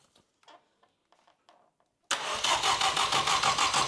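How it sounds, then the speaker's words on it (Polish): An oil-flooded car engine turns over on its starter motor, a loud, rapid, steady cranking churn with a regular pulsing beat that starts abruptly after some faint clicks and handling noises. "Silnik zalany olejem i teraz kręcimy go rozrusznikiem."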